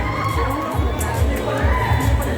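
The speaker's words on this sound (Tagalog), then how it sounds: "Palakpakan naman natin ulit." A crowd at a Manila male pageant contest cheers and applauds the contestants, a loud, continuous wash of shouting and clapping with high-pitched yells throughout.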